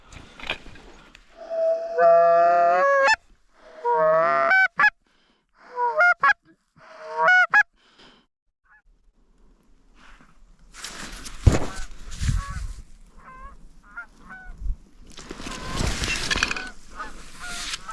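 Several bursts of loud goose honking come first during a Montana goose hunt, then quieter stretches with rustling, movement and wind-like noise.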